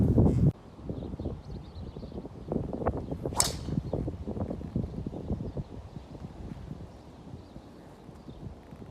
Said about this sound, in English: Let me whack this drive and then we'll get talking.